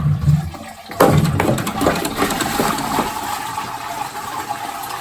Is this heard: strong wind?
no